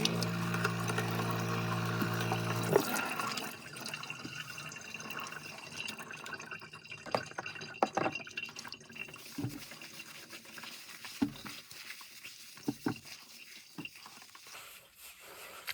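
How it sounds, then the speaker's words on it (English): Water running into a small sink inside a van for a hair wash, a steady rush at first that gives way to softer splashing, dripping and patter, close by with no talking. "I'm just gonna do a quick wash in the sink."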